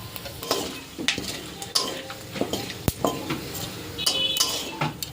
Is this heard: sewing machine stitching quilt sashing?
no